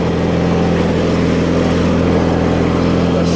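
A 1987 John Deere tractor engine runs steadily at moderate throttle, a loud, continuous close-up rumble with no pauses and no voices.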